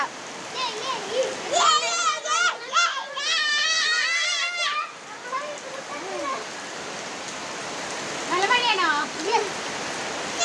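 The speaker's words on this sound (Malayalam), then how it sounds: "നല്ല ചൂടിന് ശേഷം നല്ലൊരു മഴ പെയ്തു" Steady heavy rain pours and splashes in the background while children's voices chatter and call out over it.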